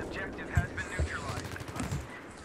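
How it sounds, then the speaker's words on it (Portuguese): Gunfire in the video game Battlefield 3 on the Gulf of Oman map: several sharp, moderately distant shots in quick irregular bursts, with faint voices in the background. "Tomando tiro, tomando tiro!"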